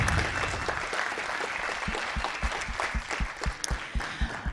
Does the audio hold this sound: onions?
no